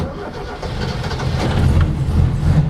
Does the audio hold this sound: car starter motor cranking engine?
yes